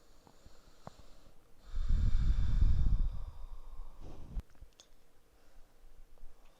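Deep breathing during a yoga session: a long, close, airy exhale of about a second, then a shorter breath, with quiet room tone around them.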